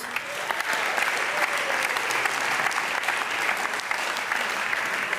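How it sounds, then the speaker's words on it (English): Audience at the Team Jumbo-Visma 2023 team presentation gives Tour de France rider Wout van Aert a sustained, dense round of applause, even and unbroken throughout. "a huge round of applause, please, for Wout van Aert"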